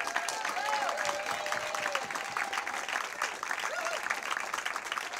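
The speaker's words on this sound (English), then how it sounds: "let's give her a loud, warm applause and welcome her to the Couch and Valley." A showroom audience claps to welcome a folk performer to the stage, a fairly faint, continuous round of applause with a few whoops and cheers rising above it.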